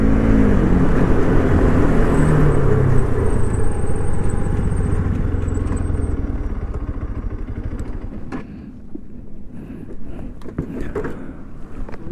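KTM RS 200 and RC 200 motorcycles, 2021 new-generation models, roar loudly side by side in a drag race, engines droning at high revs before fading and sputtering near the limiter.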